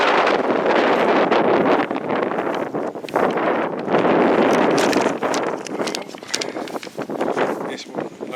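Strong wind blowing outside the church of St. Nicholas at Ashill, buffeting the microphone in loud, gusty roaring bursts throughout.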